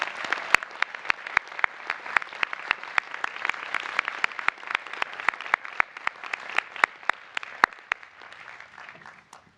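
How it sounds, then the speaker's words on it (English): A commencement audience at Amherst College applauds its teachers: many hands clap together in a continuous round of applause with sharp individual claps standing out, fading slightly at the end. "let's have a round of applause for all the teachers"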